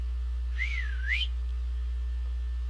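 Someone whistles once, a single rising-falling-rising tone lasting under a second over a constant low hum, with no talk.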